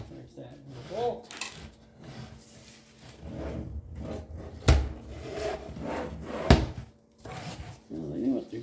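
A Philips 15-inch monitor casing being pried apart by hand, heard as scraping, rubbing plastic and two sharp cracking snaps of clips giving way, close up, mixed with low mumbled talk.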